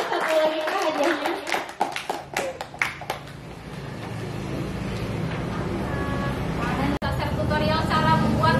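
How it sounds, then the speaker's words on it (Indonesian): Audience clapping at a recycling innovation event, a burst of scattered hand claps in the first few seconds that fades into murmuring crowd chatter and talk. "Oke, tepuk tangan dong"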